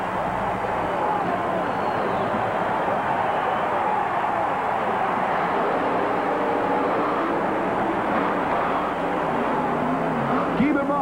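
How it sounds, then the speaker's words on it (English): A full-body 1957 Chevrolet monster truck roars at a USHRA arena show in New Orleans, its engine a dense, steady drone, heavy crowd and announcer chatter blended under it throughout. "Dale Harris's incredible full-body 1957 Chevrolet Monster"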